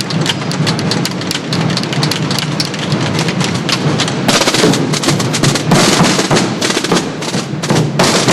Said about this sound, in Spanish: veíamos la lluvia que estaba cayendo, Antonio.